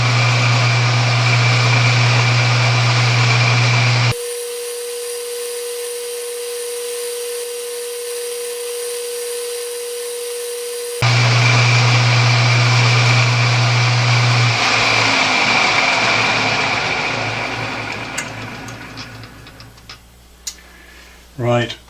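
A metal part has a shoulder cut on a lathe, a steady loud machining drone that breaks off midway, resumes, then winds down into scattered small knocks and clicks.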